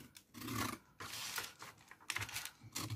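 A cutter drawn along a marked line on a Gorjuss Homfun craft kit, heard as several faint, close scraping and slicing strokes separated by brief pauses, with a light clicking texture.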